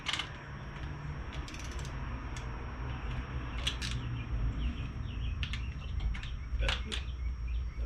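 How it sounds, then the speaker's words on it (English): Torque wrench tightening cylinder head bolts on a Honda engine to 22 foot-pounds: bursts of rapid ratcheting clicks, near and moderately loud, over a steady low background hum, with no talking. "we're going to put 22 foot-pounds of torque on it"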